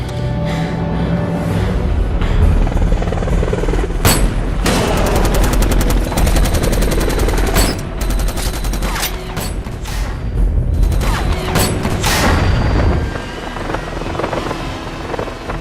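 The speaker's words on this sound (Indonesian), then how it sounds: "mereka terlebih dahulu dihujani oleh peluru helikopter itu" A helicopter's rotor thunders continuously while bursts of rapid machine-gun fire crackle over it, loud and close, with heavy booming impacts throughout.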